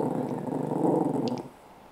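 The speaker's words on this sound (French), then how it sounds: "Ah, Maurice, il y avait un chien dehors" A dog growls close by, a continuous low rumbling snarl lasting about a second and a half before it stops, with no talking over it.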